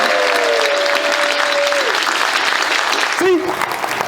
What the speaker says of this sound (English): So a round of applause because Chris saved their night.